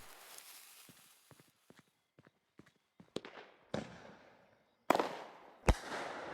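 Firework cake bursts and crackles in the video game Fireworks Mania: a fizzing start, scattered pops, then several sharp loud booms with hissing tails, no voices.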